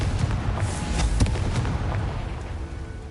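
Blasting spell explosion in a wizarding video game, a loud booming burst with rumbling low-end crackle and several sharp pops, sustained throughout before tapering slightly.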